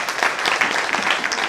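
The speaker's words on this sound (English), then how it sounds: "For you parents, give them a hand clap." A crowd at a skills training event claps for the parents, a dense, continuous round of applause heard close and fairly loud throughout.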